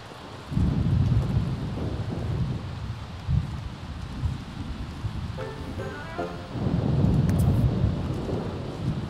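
Rain and rolling thunder in the video game The Sims 3 rumble low and steady, swelling into heavier thunder near the start and again toward the end, with a faint chime partway through.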